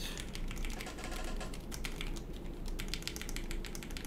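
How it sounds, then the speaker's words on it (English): Keys being tested one after another on a TX75 mechanical keyboard with lubed vintage black switches, a dense run of close, rapid clacks and taps with no talk. "So I just have to check all the keys to make sure that"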